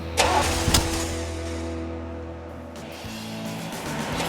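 A 1970 Camaro RS/SS with a 396 big block V8 starts up close by: a short cranking burst, then a steady, rumbling idle that holds, with a brief shift near the end.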